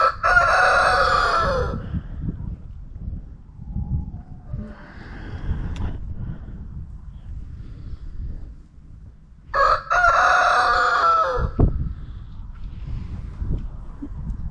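A rooster in a freezing winter garden gives two loud, close crows separated by lower clucking and muttering, with steady outdoor background noise throughout.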